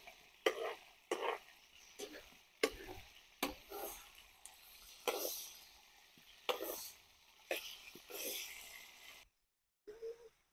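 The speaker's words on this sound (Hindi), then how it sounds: "चिकन जो है वो तकरीबन 6 से 7 मिनट तक हम फ्राई करेंगे" Chicken pieces frying in a pan for chicken and cauliflower curry, a steady sizzle broken by repeated bursts of stirring and scraping every second or so, close by, dropping briefly to silence near the end.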